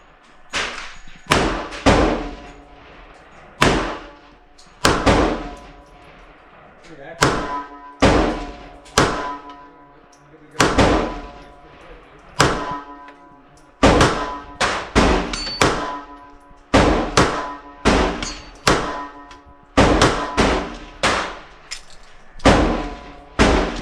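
A Beretta 80X Cheetah pistol fired at an outdoor range: a string of sharp, close reports, some paced singly and others in quick clusters, each with a short decaying ring, and no talking.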